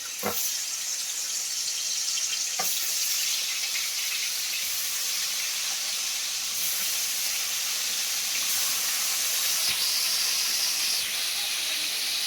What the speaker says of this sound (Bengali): আর এখানে আমি পমফ্রেট মাছ ভাজছি